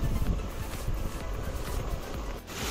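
Rain-fed waterfall pouring down from the hills, a broad continuous rushing roar of water with wind-like noise, steady and fairly close throughout.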